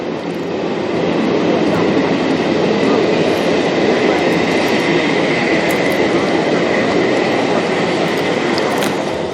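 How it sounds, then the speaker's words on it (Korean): A train passes on the tracks below a suspension bridge, a loud, steady rumble of wheels on rail that fills the whole stretch without letting up. "기차 소리 들리시죠?"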